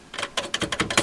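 Commodore 64G keyboard keys typed in a quick series of about eight sharp, close clicks, each key press distinct and fairly loud with no talking.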